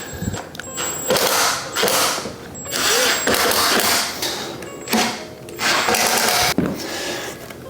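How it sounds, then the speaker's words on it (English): A power driver repeatedly whirs as screws go into a Secretlab Magnus Pro desk, with several loud spinning bursts separated by brief pauses and a ratcheting mechanical edge, close up. "now let's just screw these in"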